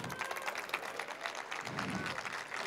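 Audience applause for speaker León at a Campus Party Mexico talk, a steady wash of many hands clapping that fills the whole stretch, moderately loud and crowd-like with some murmur mixed in.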